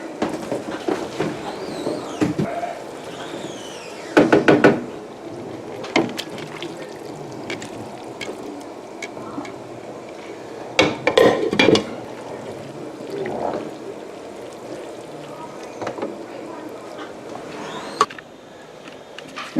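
Pancit noodles tossed and mixed in a pan, with soft scraping, stirring and wet clattering bursts at irregular intervals, close by and moderately loud, with two busier stretches of rapid turning.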